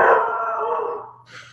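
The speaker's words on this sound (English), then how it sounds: "that's my dog guarding me" A single dog gives a loud, drawn-out howling bark up close, sliding downward before a short higher yelp at the end, with no talk over it.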